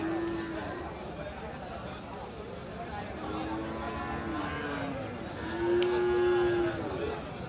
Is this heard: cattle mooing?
yes